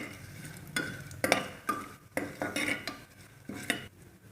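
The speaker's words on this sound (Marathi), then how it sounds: "आता हे दालचिनी, मिरे, लवंग चांगलं परतून घ्यायचं।" Cinnamon, black pepper and cloves sautéing in a pan for masala bhat, with a light sizzle under a series of sharp, irregular scrapes and clinks from a spoon stirring against the metal, close and fairly loud.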